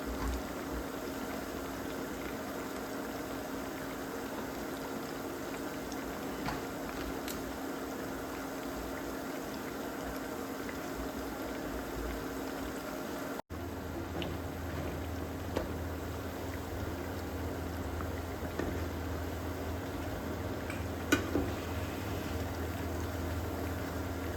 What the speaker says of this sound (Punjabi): ਟਿੱਕੀਆਂ ਨੂੰ ਫਰਾਈ ਕਰਨ ਤੇ ਆਪਾਂ ਨੂੰ 3 ਤੋਂ 4 ਮਿੰਟ ਲੱਗਣਗੇ